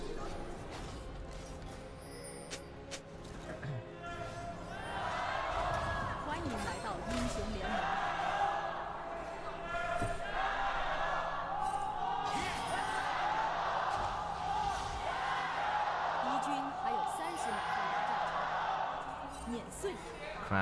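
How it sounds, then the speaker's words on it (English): A packed arena crowd chants and roars during a League of Legends esports playoff match between JDG and TES, a broad swelling roar with rhythmic chanting that rises and falls, and commentators talk over it. "crowds chant"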